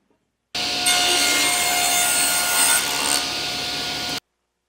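A table saw rips through a wooden birdhouse roof board in a single loud, close cut lasting a few seconds, its whine rising slightly mid-cut before stopping abruptly.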